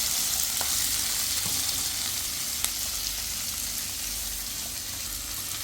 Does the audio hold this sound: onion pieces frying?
yes